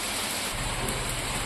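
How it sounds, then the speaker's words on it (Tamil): Heavy rain pours down on a village during Cyclone Fengal, a dense continuous hiss of water on surfaces with a low rumbling undertone, steady throughout and no speech. "மழை கனமா பெஞ்சா கூட பரவாயில்லைங்க"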